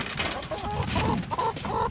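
Chickens cluck and chatter close by for a couple of seconds as a small flock of hens is let out of their pen, with short overlapping calls and no one talking.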